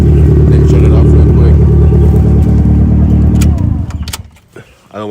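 A turbocharged Mazda Miata idles loud and close with a steady low rumble, then shuts off a few seconds in and the engine sputters to a stop, leaving faint clicks and small handling noises.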